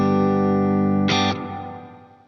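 A sustained, distorted guitar chord runs through a Line 6 POD Go GLITZ reverb with its crossover raised to 1.2K, then cuts off with a bright burst, leaving a shimmering tail that slowly fades.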